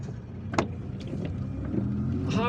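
A car drives along a highway in Algiers, giving a steady low road and engine rumble with a few brief knocks and a faint rising whine near the end.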